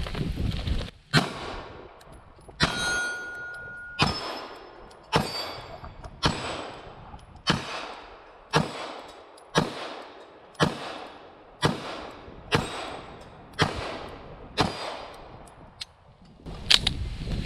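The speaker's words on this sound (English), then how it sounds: "We're going to shoot it downrange" Springfield Hellcat pistol shots fired downrange at a shooting range ring out as a steady series of about fourteen loud, sharp cracks spaced roughly a second apart, each with a short ringing tail.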